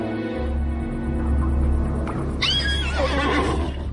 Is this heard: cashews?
no